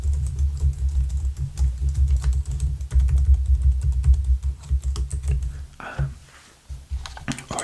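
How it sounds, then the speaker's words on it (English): Close, crisp tapping on a computer keyboard in an ASMR personal-attention setting: a quick, irregular stream of light key clicks that pauses briefly near the end before resuming. "I could do some typing for you now"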